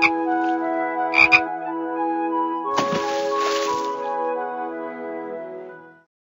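A cartoon frog in the Starfall ABCs phonics app on an iPhone croaks in a few bright, bubbly bursts over a sustained musical tone, then a louder splashy flourish, the whole cue fading out near the end; no talking.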